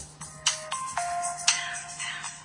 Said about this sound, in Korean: 백수들의 단잠을 깨운 핸드폰 알람 소리